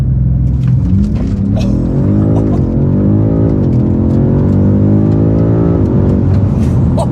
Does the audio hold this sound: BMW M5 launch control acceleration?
yes